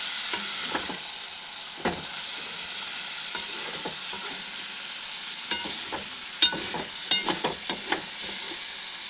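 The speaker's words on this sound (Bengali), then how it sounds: "ঢাকাটা খুলে রাখছি, কারণ মশলাটা ভালো করে ভাজতে হবে।" Masala for a chicken curry frying in an open pan, a steady sizzle broken by scattered scraping stir strokes, a brief cluster of sharper clicks near the end; close and moderately loud, no voices.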